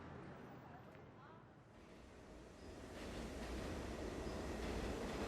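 Subway train rattling and rumbling as it rides home in a steady mechanical wash, swelling louder toward the end, used as an audiobook sound effect.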